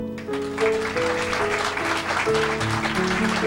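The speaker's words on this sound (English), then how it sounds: "would you please do another round of applause for Mr. Ed Smart." Applause from an audience fills a Hollywood cabaret room while sustained musical tones play underneath, steady and fairly loud throughout.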